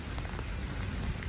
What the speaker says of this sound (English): It rains off and on, mostly on, but it's really light.